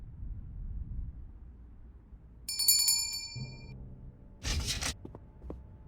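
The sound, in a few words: doorbell rung by pulling a rope in Lost Chronicles of Zerzura video game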